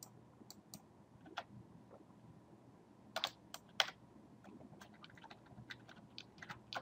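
Computer keyboard arrow keys pressed during design work, a series of quiet, crisp clicks in irregular clusters, some in quick double taps, close up in a quiet room.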